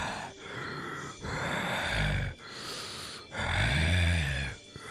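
A voice imitates eerie heavy breathing in a horror tale set in an abandoned house: four long, rasping, groaning breaths, close and loud, separated by short pauses.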